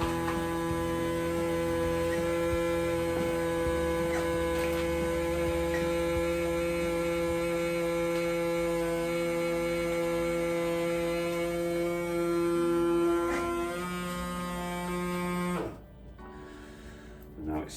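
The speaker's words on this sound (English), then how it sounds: "I'm going to press the vacuum seal button. We'll take all the air out of the bag." A vacuum sealer seals a bag of deer meat with a steady electric hum and whine running close by for about fifteen seconds, then stopping abruptly.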